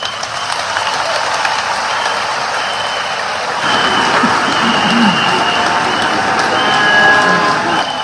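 Loud, sustained clapping from a sizable crowd at a political rally in Yamoussoukro, steady throughout and swelling slightly partway through.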